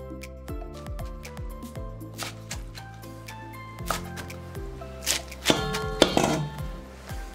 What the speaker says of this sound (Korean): 듬성듬성 썰어준다